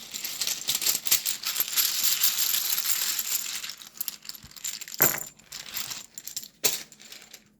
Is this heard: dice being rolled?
yes